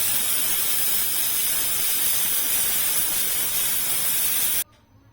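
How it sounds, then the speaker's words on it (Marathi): Steam escaping from a pressure cooker cooking moth beans, a loud, steady hiss that holds for about four and a half seconds before cutting off abruptly into near quiet. "आता झाकण लावून याची फक्त आपल्याला एक ते दोन शिट्ट्या काढून घ्यायच्या आहेत"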